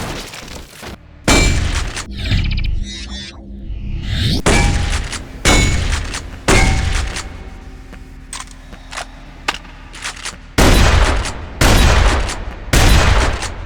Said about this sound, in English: This is the best shotgun to feature in an Aliens game so far.